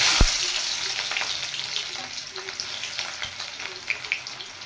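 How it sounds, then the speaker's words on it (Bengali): Chopped onion tipped into hot oil for a Bengali shatin fish dish lands with a sharp hit, then a steady, close, loud sizzle crackles on without pause. "তেল গরম হয়ে গেছে, এবার আমি দিয়ে দেব কুচিয়ে রাখা পেঁয়াজ"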